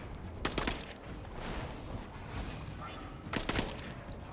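Bursts of gunfire in the video game Marvel's Avengers, with sharp shots and a sustained rattling volley over an ongoing game soundscape.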